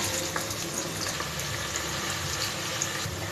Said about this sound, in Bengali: এবার পাত্রে কিছুটা তেল গরম করে নিয়ে তাতে দিয়ে নিচ্ছি তিনটি মাঝারি সাইজের পেঁয়াজ কুচি